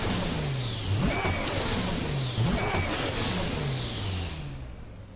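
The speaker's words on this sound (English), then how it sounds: "Oh, it's this one with the loud turbo." Loud turbocharged car engine in the driving game No Hesi, repeatedly rising in pitch through gear pulls with sharp whooshing turbo bursts and hisses between shifts, close and dominant, fading slightly at the end.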